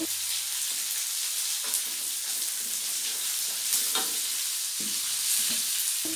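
Carrots stir-fry in a pan with a steady, dense sizzle and occasional scraping stirs, continuous and close with no talking.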